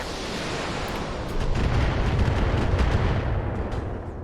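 Mech weapons fire in the BattleTech video game as a dense, loud rumble of blasts and impacts, building into a sustained barrage that swells and then eases.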